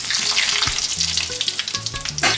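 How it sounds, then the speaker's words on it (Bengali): Panch phoron, three dried red chillies and a bay leaf sizzle hard in hot oil on a high gas flame. The crackling is loud and continuous, with a few utensil clinks and no talking. "তেলটা গরম হয়ে এলে তাতে দিয়ে নেবো 5 ফোড়ন, 3টে শুকনো লঙ্কা"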